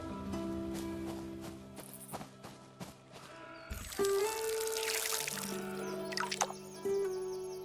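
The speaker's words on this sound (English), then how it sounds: "After that, I watered the tomatoes as well." Tomatoes being watered in the Fractured Blooms game: a poured stream of water splashes and trickles over a soft musical background, with occasional light footsteps and drips.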